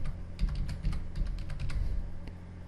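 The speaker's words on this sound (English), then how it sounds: "after typing this command just hit enter" Fingers type a command on a Windows computer keyboard, a close run of quick, light key clicks in uneven bursts, followed by a single later tap, with no voices.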